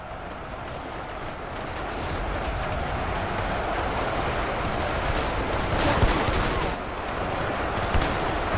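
Dense, continuous battle gunfire from Ultimate Epic Battle Simulator 2, with massed shotgun blasts against medieval infantry rolling into a steady loud wash of overlapping shots.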